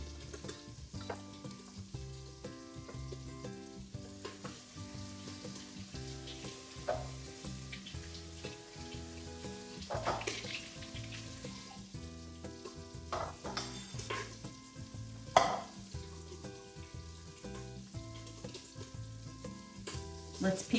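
Bacon frying in a pot for clam chowder, a steady crackling sizzle with occasional pops and a few faint stirring scrapes, continuous and moderately quiet throughout.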